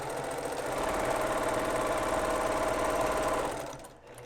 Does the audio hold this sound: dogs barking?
no